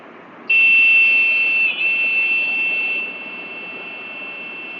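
A PWM-driven electronic buzzer wired to a microcontroller sounds a steady, piercing high tone that switches on abruptly, dips briefly, then drops to a slightly quieter level for the rest, over a faint background hiss.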